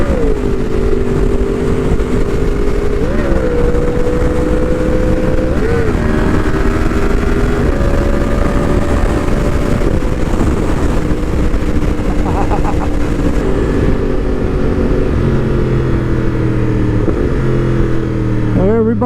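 A 2020 Yamaha R1 sport bike rides along the road, its engine droning loud and close with rising and falling pitch through gear shifts, wind rush throughout and a rider talking over it.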